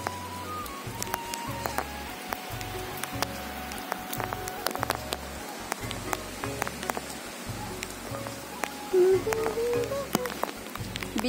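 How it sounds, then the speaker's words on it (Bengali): Rain falls steadily on a rooftop, a constant patter with scattered sharper drop hits over a rhythmic low thumping, and a brief faint voice near the end. "আবার বৃষ্টি হচ্ছে।"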